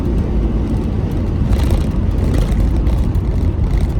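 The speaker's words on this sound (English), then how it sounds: "This car is great for second and third gear pulls, even in an automatic." Nissan 300ZX Z32 with an automatic transmission pulls hard through second and third gear, a steady engine drone with wind and road roar from inside the car, loud and continuous with no talking.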